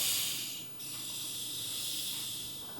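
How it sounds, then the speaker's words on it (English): A Barq's root beer bottle is opened, giving a sharp hiss of escaping gas that drops at once into a steady, close fizzing of carbonation that carries on without talk. "Hear that seal breaking for the first time."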